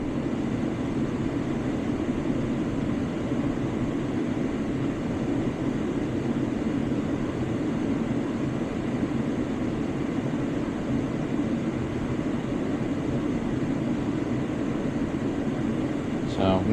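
Gas boiler with its burners lit and inducer fan spinning, a continuous even roar and hum that stays steady and moderately loud throughout, with faint talk near the end.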